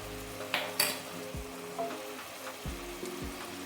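Finely chopped garlic cloves go into mushrooms frying in a pan, giving a soft steady sizzle with a few light clinks and scrapes from stirring; no one speaks.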